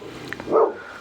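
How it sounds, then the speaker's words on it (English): A dog barks once from underneath a house, a short, muffled yip at moderate loudness, heard alone. "Yes, she'll bark."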